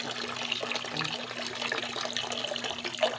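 Sulfur spring water flows in a continuous moderate rush and splash, steady and close, with no voices over it.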